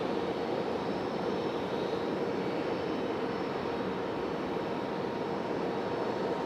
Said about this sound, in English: Delta CRJ.